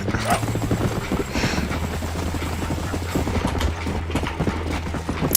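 Horse hooves clip-clopping in Red Dead Redemption, a steady rapid gallop rhythm running under a low continuous mechanical-sounding drone from start to finish, fairly loud and close.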